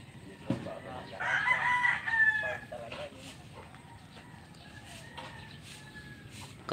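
A rooster crows loudly up close, with chickens clucking around it and a voice talking in the background.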